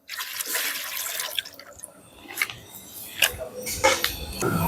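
Rose water and kewra water are poured into a pot of mutton biryani, giving a close, splashing trickle of liquid with a few drips and light knocks of kitchenware.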